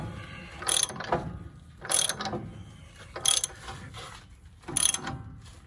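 A ratchet tightens wheel nuts on a car during a broken wheel stud repair, making four separate bursts of crisp pawl clicking, each a short rapid ratcheting stroke, close and clear against a quiet background.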